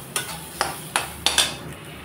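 Moong dal is lightly fried and stirred in a pan, with five sharp scraping strokes of a utensil at uneven intervals over a soft sizzle, close and fairly quiet.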